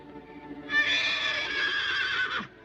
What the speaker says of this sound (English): It's just an old horse, Winnie.